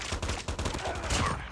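Rapid bursts of gunfire in the mobile shooter Call of Duty Mobile during a battle royale match, loud and dense, crackling over a short stretch with a voice faintly mixed in.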